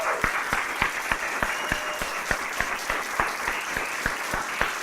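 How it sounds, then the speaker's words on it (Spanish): Congregation applauding for Jesus during a Spanish-language church service, a steady dense clapping from a crowd that fills the whole stretch without any talk. "¿Alguien le quiere dar un aplauso a Jesús?"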